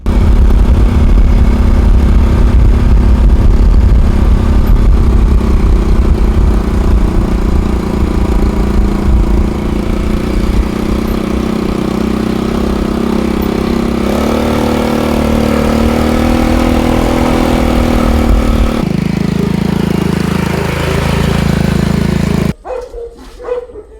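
A motorcycle engine idles loudly and steadily for most of the clip, its rumble shifting slightly in pitch before cutting off abruptly near the end.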